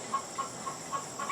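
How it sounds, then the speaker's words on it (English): A chicken clucks in short, evenly spaced calls, about five soft clucks at a moderate distance over a quiet background. "sorry, I was distracted by a chicken"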